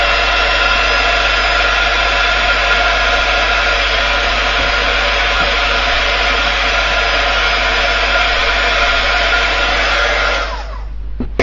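A hair dryer blows continuously and loudly up close to dry paint during watercolour colour blocking, a steady roaring whoosh that clicks off near the end.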